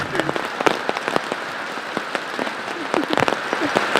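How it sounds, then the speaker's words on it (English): Rain pattering steadily on an outdoor archaeological site at the Templo Mayor in Mexico, a dense, close hiss of drops with scattered sharper taps throughout. "I don't think the camera is doing justice to the fact that you're getting soaked as you do this, because it's just started to rain."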